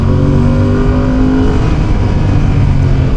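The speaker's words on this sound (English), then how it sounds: "I cannot have enough of this engine note." Loud, steady engine note of a Fantic Caballero 700 motorcycle while riding, a deep thrumming drone with some induction noise, close up and continuous with no talking.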